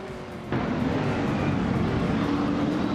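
Race cars in a racing video game, including a 2001 Chevrolet Camaro, roar as a dense, steady engine drone that jumps louder after a brief quieter start and holds constant with no talking.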